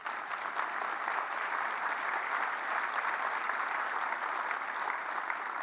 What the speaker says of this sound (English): that was Lisa Thompson who led that applause